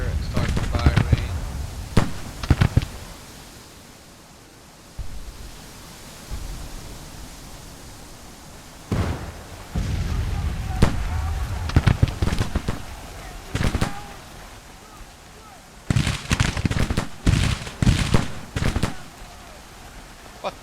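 Troops firing in Grand Tactician, a Civil War battle for Saint Louis: loud ragged volleys of musketry come in clustered bursts separated by quieter gaps, with voices speaking between them.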